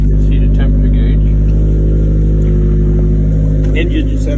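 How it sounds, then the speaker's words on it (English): A turbocharged 1995 Mazda Miata engine idles on a cold start, a loud steady low burble with an even pulsing rhythm, heard close, with a person talking over it. "It's a cold start."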